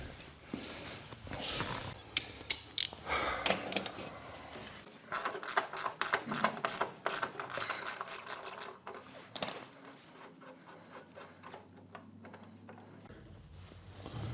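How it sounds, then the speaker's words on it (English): A ratchet wrench turns a nut on a Cub Cadet riding mower during drive belt replacement, producing quick runs of sharp metallic clicks in uneven bursts, close up, with quieter handling noise afterward. "Just go in here with my wrench, get it."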